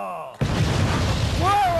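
A comedy sketch sends off a sudden sharp gunfire blast that leaves a rumbling, noisy tail, with a voice shouting over it near the end.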